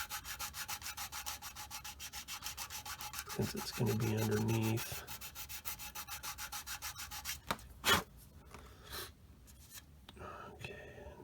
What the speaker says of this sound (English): So I need a little bit coarser sanding stick here for that,